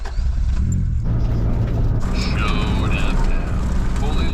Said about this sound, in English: Oh, it's so gravelly here.